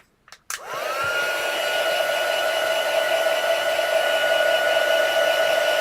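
A heat tool blows steadily to dry a craft piece, starting after a couple of brief clicks and then holding a loud, even whoosh with a high whine for several seconds, alone.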